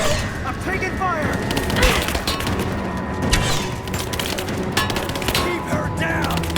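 Rapid gunfire in Rise of the Tomb Raider, sharp cracks and bursts rattling over a busy combat mix while voices shout nearby.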